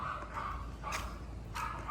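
A dog barks a few times at a moderate distance, short yips separated by pauses, over a low background rumble.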